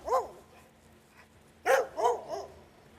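Stray dogs in the Severny microdistrict of Lensk bark close by, with a single sharp bark, a pause, then a quick run of three barks over faint background hum.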